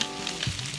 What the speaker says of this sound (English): Add the vegetables and eggs back into the same pan. Mix well and stir fry the ingredients for just a minute or so